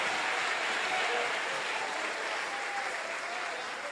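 A church congregation at a Sunday worship service applauds in sustained, steady clapping that fills the room for the whole stretch, with a faint voice beneath.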